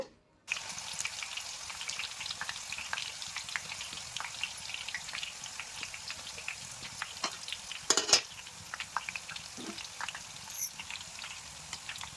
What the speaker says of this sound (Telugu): మిగతా చిప్స్ని కూడా మనం గోల్డెన్ కలర్ వచ్చేంత వరకు డీప్ ఫ్రై చేసుకుందాము